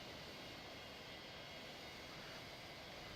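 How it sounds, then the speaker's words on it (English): An F-35B's jet engine runs in Flight Simulator X, a steady, dense, broadband roar held at an even level with no talk. "Who's not shut down? Because I still hear an engine."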